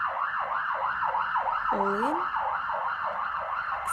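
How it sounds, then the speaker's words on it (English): A wailing siren cycles up and down repeatedly in the distance, with a brief voice speaking over it partway through. "Excuse that awkward siren"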